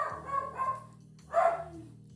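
Dogs bark in two short bursts, a pair of clear woofs over a low background hum, fairly close and with no talk.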